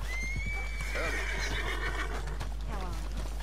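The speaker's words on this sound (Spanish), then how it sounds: "Me da a mí que voy a llamar al caballo" A horse whinnies loudly and shrilly in Red Dead Redemption 2, with hooves clip-clopping underneath and a steady game background hum.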